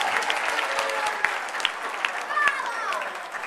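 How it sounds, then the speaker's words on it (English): Wedding reception guests at a golf club giving a round of applause for a groomsman; lively clapping with a few louder nearby claps and some cheering or voices mixed in. "Please give a round of applause to Matt"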